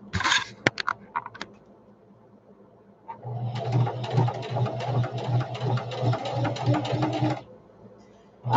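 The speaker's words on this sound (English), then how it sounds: "I'm just going to follow my sew line that's already there from when we closed it up, just to get it down." A sewing machine stitches along an existing seam of a simple fabric diaper bag. A few soft handling taps come first, then about four seconds of loud, steady, close motor whirring with fast needle chatter that stops abruptly.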